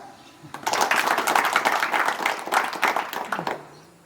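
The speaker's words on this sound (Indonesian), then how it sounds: "Tepuk tangan." Applause from a school audience of students during an official visit, a burst of many hands clapping that swells after half a second, holds steady for about three seconds, then fades out.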